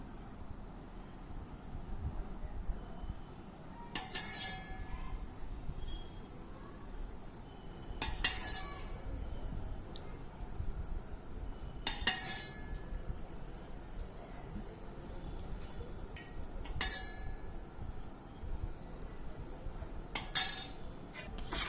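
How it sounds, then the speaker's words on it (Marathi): Quiet, irregular scraping and clinks of a utensil against a steel plate as oil is worked into a spice masala for a fresh turmeric pickle, with a few louder metallic taps over soft background hiss. "ते मी आता या मसाल्यावर संपूर्ण टाकलंय आणि आता तो छान मी मिक्स करतेय"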